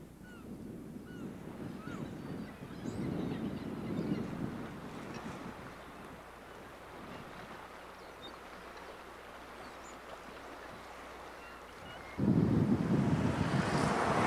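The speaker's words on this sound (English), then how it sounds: "A breezy but sunny day." Blustery wind buffets the microphone on a breezy, sunny day at Penzance in Cornwall, a steady low roar that swells in gusts and grows noticeably stronger near the end, with no talking.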